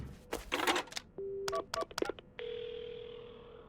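In the video game Paranormasight, a phone is dialed from a phone booth: a string of short key beeps and tones, followed by a steady ringing or connecting tone that holds to the end, clear and alone.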